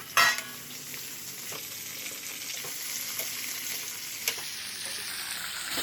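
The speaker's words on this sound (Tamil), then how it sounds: "எண்ணெய் ஊற்றிக்கலாம். வெங்காயம் எல்லாத்தையும் ஒன்றா போட்டுக்கலாம். போட்டு நல்லா வதக்கி" Chopped onions sauté in hot oil in a pan for an onion chutney, giving a steady, close hiss and sizzle with occasional stirring clinks and scrapes, and no talking.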